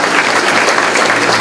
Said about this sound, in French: ça mérite encore une bonne main d'applaudissement pour ses 30 ans